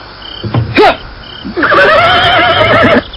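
A horse beside a horse-drawn carriage whinnies in an Indonesian radio drama, one short neigh followed by a longer, loud, wavering whinny, close and clear.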